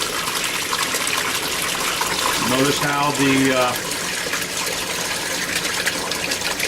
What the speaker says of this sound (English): the pipe here that is bringing the water from the fish tank